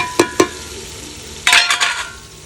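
Tomatoes, onions and green chillies fry in a pan, a steady close sizzle broken by a couple of sharp utensil knocks and then a louder burst of stirring and scraping, with no talk.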